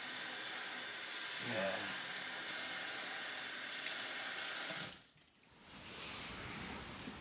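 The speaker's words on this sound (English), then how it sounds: "A splash of cold water and rinse it out." Cold tap water runs steadily as hair is rinsed, a close, even rushing hiss lasting about five seconds before it cuts off, followed by quieter room sound.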